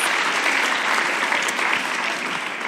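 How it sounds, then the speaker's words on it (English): An audience at a live panel on cross-cultural kids gives a round of applause, dense and loud, sustained evenly throughout before easing slightly at the end. "Can we give them a round of applause?"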